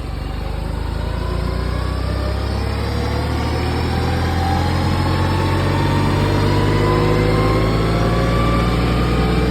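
A Kioti CK2610 tractor, its 35 hp engine detuned to 25 hp and refuelled to 35 hp specs, labours steadily near 2500 RPM up a steep hill, a loud continuous drone with no talk.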